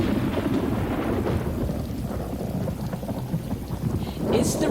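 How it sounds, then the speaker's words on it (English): Video game rain: heavy rain hisses steadily while low rolling thunder rumbles through it, building near the end, with no voices. "Is the rain necessary?"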